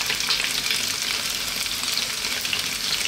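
Beef and onions frying in a pan for an Ethiopian beef and cabbage dish, giving a loud, steady, close-up sizzle that continues without a break and has no talking over it.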